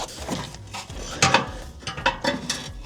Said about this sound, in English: Just removing the bolt that holds the crash bar on.